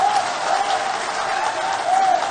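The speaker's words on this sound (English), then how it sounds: "With a round of applause" Crowd at a National Democratic Congress event in Ghana breaking into applause after the party chairman is introduced; dense, steady clapping with a faint tonal hum underneath, fairly loud and continuous for the whole stretch.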